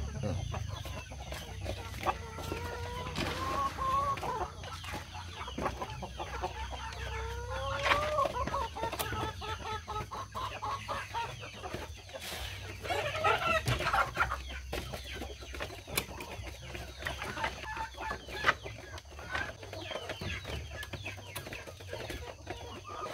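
Several chickens cluck and call steadily in a backyard coop where five-month-old birds are raised, with a rooster-like crow or two rising over the continuous flock chatter and a low background hum.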